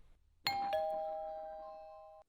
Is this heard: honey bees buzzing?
no